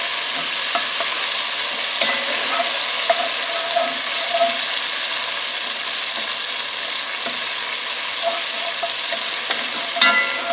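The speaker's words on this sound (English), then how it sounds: "But definitely keep stirring to help avoid that burning." Butternut squash and potato curry sizzles loudly and steadily in a pan while a spoon stirs it, with small scrapes and bubbling pops over the constant frying hiss, close and uninterrupted by speech.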